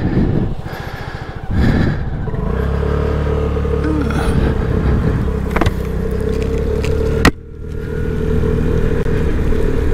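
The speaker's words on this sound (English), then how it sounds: "Something doesn't sound right on the scooter. I hear some kind of squeal." A Vespa scooter engine idles steadily up close in winter, a thin high belt squeal running over the low rumble, with a brief clunk near the end before it settles again.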